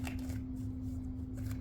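Playing cards being shuffled during a tarot-style reading, a soft steady riffling flutter, close and quiet, over a constant low hum.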